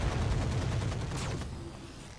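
Mech weapons fire in the Roguetech video game, a dense rumbling volley of shots with a whooshing streak of a missile launch, then fading into quieter rumble.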